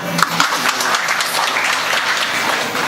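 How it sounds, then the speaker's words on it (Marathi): An audience at a kirtan gathering breaks into loud, sustained applause, dense clapping from many hands that holds steady throughout, close and full. "घ्या टाळ्या वाजवा."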